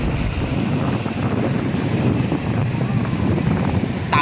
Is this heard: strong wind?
yes